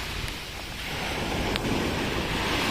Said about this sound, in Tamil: பார்த்தீங்கன்னா முன்னாடி ஃபுல்லாக ப்ளூ கலர் கடல் அலை வருது